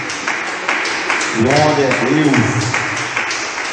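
A church congregation claps joyfully for Jesus during a sermon, a steady wash of hand claps filling the room while a voice calls out over it.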